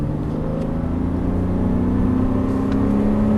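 A Porsche Cayman S engine hums steadily from inside the cabin on a track, its pitch climbing slightly as it builds speed, loud and continuous with no talking.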